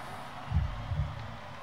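Recorded heartbeat effect from a song in a live performance, two deep, muffled low thumps close together, set against a quiet hum.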